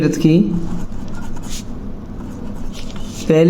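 A pen scratching across paper while a Class 10 maths problem is worked out: soft, uneven scraping strokes through the middle, with a voice briefly heard at the start and again at the end.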